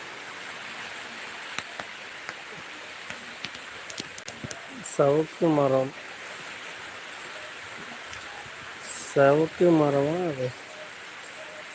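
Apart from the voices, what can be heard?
heavy rain falling outdoors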